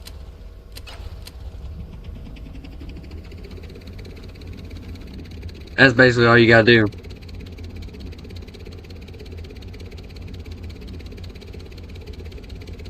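A helicopter engine in the World of Warships game gives one loud, buzzing, harmonic burst lasting about a second over a steady low background hum, and a voice speaks briefly.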